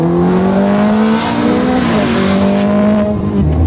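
A Ferrari F430 Scuderia sports car engine revs hard and accelerates, loud and close, its pitch rising through gear changes with a brief shift dip before climbing again.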